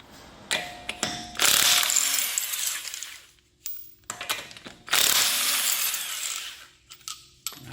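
A torque wrench turns a nut on a vehicle's suspension, giving two separate runs of rapid metallic ratchet clicks. Quiet pauses and a few isolated clanks separate them, close and clear.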